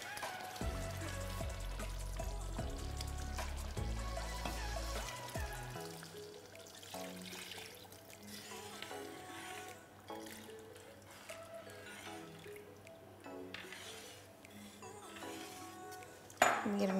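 Second coconut milk poured into a wheat payasam pan set over a high flame, giving a soft, steady trickle and faint bubbling with light metallic pan clinks and no voices.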